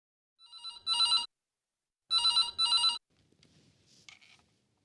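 A telephone rings in a domestic drama scene, two bright electronic double-trills separated by a pause, loud and clear, followed by faint rustling.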